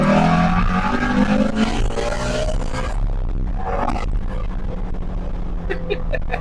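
Ford Shelby GT350 V8 engine revs hard up to its 8,200 RPM redline, a loud rising roar that holds then drops off, followed by quieter idle and brief blips near the end.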